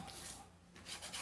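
Painted MDF house piece being distressed by hand, a brief soft continuous rubbing and rasping close up, quiet and unaccompanied.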